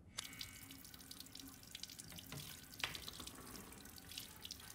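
A sink tap running in Resident Evil Village, a quiet steady stream of water splashing into a basin with faint drips and small clinks, close and alone without speech.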